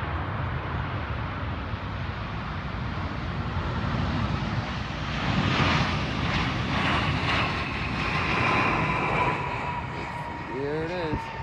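An airplane roars past in the distance at Chicago O'Hare Airport, its rumble swelling midway and then fading, with faint voices nearby.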